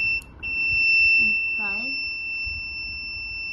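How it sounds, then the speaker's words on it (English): A small electric buzzer in a liquid electrical conductivity test circuit, wired through an acidic liquid, gives off a continuous shrill high tone with a brief dropout near the start, under a short bit of talk. "you can hear some sound coming from the buzzer"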